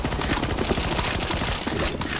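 Rapid gunfire in the video game CS:GO Zombies, aimed at a boss, fills the whole stretch as dense, loud, continuous bursts of shots.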